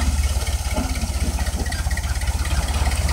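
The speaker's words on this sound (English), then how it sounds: "Drive that tractor, boy." A tractor engine running at an outdoor backwoods bonfire gathering gives a loud, close, low throbbing rumble with a steady pulsing rhythm, as if idling or lugging, and no talk is heard.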